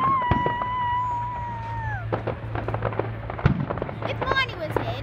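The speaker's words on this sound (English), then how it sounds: "The fireworks are amazing." Fireworks exploding in a show, with whistling rising rockets followed by several sharp bangs and crackling bursts, while people talk excitedly nearby over a low hum.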